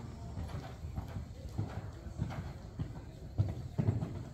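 A horse trotting during a jumping lesson in a riding arena, a steady two-beat clip-clop of hooves at moderate distance with faint background noise.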